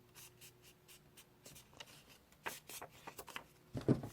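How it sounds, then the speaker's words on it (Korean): Colored paper being folded diagonally while making a paper robot hand: soft, close rustling and creasing strokes come in short bursts, growing louder near the end, with no speech. "꼬다리 종이를 이렇게 대각선으로 접습니다."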